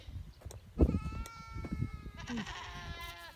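Goats bleating outdoors on a farm where cherry blossoms are in bloom, with several wavering bleats at moderate distance over a soft background of rustling and faint activity.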